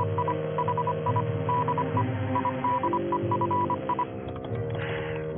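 A radio code signal goes out as a run of short and longer tone beeps at an uneven, keyed rhythm over a steady electrical hum, then fades near the end.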